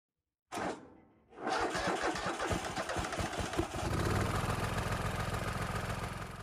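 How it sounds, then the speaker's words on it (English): An old Kohler engine cranks briefly, then catches and roars up to a rough, loud idle, its uneven misfiring beat and clattering lifters running on close by without any talk. "It sounds pretty terrible, with an obvious misfire, lifter noise, and maybe an exhaust leak, but it did start without much drama."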